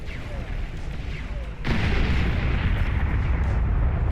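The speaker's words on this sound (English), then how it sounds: "And the nuke is away." A nuke explodes in the real-time strategy game Beyond All Reason, a sudden heavy boom at about one and a half seconds that swells into a loud sustained roaring rumble over ongoing battle noise.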